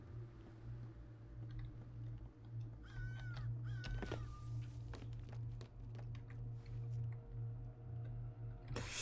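A crow caws a few times, mid-distance and fairly clear, inside the online multiplayer game Secret Neighbor, over a steady low hum and scattered ticking noises.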